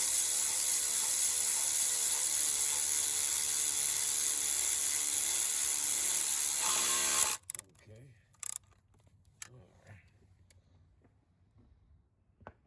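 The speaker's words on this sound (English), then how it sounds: "after we did it with the ratchet, we're now coming back and hand torquing on our own" A hand ratchet works on a bolt on the upper coolant crossover pipe of a 2015 Jaguar XJ 3.0 supercharged: a loud, steady whirring for several seconds, then sparse close clicks and taps.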